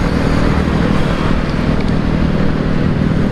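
Busy road traffic in East Jakarta roars as a steady, dense wash of engine and tire noise, with motor vehicles passing close and continuously without any break.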